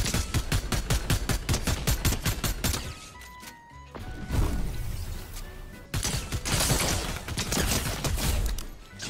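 A drum gun fires in Fortnite in rapid bursts of sharp shots, steady at first and then broken up between impacts and electronic game tones, loud and up front.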